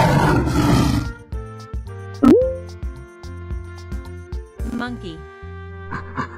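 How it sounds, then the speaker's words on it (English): A lion gives one loud, close roar lasting about a second, then cheerful background music with bouncy plucked notes continues alone. "Lion."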